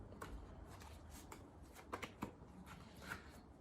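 A deck of cards being shuffled by hand, a steady papery riffle with a few sharper snaps and clacks standing out, close and fairly quiet with no one talking.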